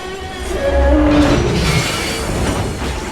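An unmanned runaway train speeds along the rails with a loud, steady rumble, and high squealing tones from the wheels ring above the noise throughout.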